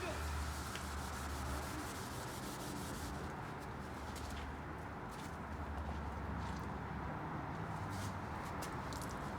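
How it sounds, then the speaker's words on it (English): A used Pit Boss Copperhead vertical pellet smoker is scrubbed clean, a steady, close abrasive rubbing that continues without a break, with a few lighter scraping strokes on top. "I'm gonna finish up scrubbing this off, get it nice and clean."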